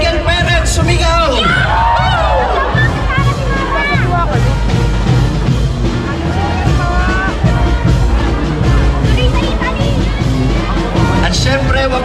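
Large crowd at a dance event shouting and cheering on command, sustained loud roar of overlapping yells and whoops that stays dense and close for the whole stretch.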